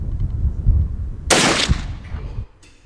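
A single loud blast from a scoped rifle, heavy recoil, a sharp burst after a brief low rumble, then a fading tail, close and alone with no talk.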